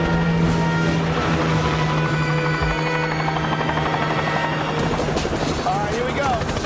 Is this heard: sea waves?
no